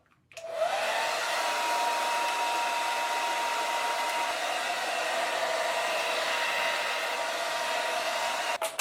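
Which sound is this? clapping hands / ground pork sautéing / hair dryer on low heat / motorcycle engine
hair dryer on low heat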